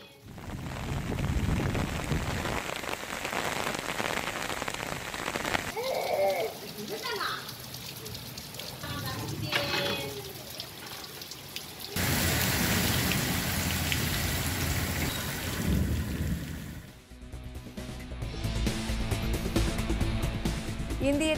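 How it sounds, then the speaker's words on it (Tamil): Rain pouring down during a sudden cloudburst, a dense steady hiss in several segments with abrupt shifts between them, moderately loud and mixed with some voices. "திடீரென வானம் மேகமூட்டத்துடன் காணப்பட்டு மழை பொழிந்தது."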